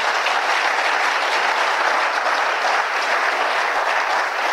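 Congregation in a church service applauding together, a dense steady wash of many hands clapping close by, sustained at even loudness throughout with no talk.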